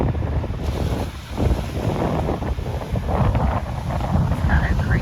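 Storm waves splash against a seawall on the New Hampshire seacoast at super high tide, a steady broadband roar and wash buffeted by loud wind noise, continuous and close throughout.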